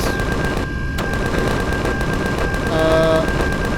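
Automated turrets in a sci-fi UFO video game firing rapid, evenly spaced shots in a steady loud stream, with a faint electronic tone joining near the end.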